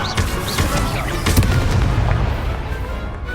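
The Incendio fire spell bursts in Hogwarts Legacy with a loud booming blast, then a rumbling roar that holds steady for a few seconds before easing slightly.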